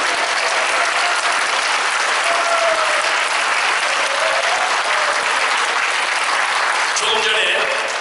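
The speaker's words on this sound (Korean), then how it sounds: "동의하시면 한번 박수 한번 주십시오." Audience at a church symposium applauding, dense continuous clapping that stays loud and steady throughout with a faint voice near the end.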